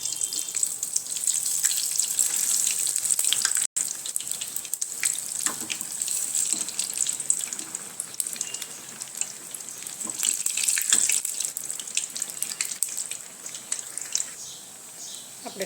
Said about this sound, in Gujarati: તો આવી જ રીતના આપણે બધા બ્રેડ પકોડા તળી લેવાના છે